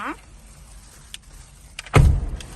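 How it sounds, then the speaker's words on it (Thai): A 2022 Isuzu car door being shut from inside, a single solid thud near the end after a quiet interior with small clicks, close and distinct. "เราขึ้นรถมาแล้วนะคะ เราก็ต้องปิดประตูนะคะ ให้สนิทก่อนนะคะ"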